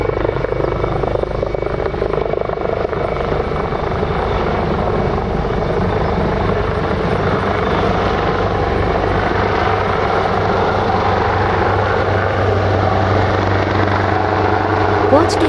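A Leonardo AW139 fire and disaster prevention helicopter of the Kochi Prefecture aviation unit runs at Takamatsu Airport, its rotor and turbine roar loud, close and unbroken for the full fifteen seconds.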